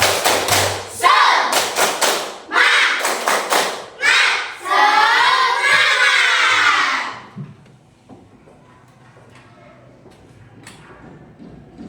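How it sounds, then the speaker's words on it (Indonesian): Primary school class in Indonesia performing a rhythmic spirit clap together, loud bursts of group clapping in quick patterned groups with children's shouting, followed by a quieter room with faint movement. "kita melakukan tepuk semangat dulu. Tepuk semangat."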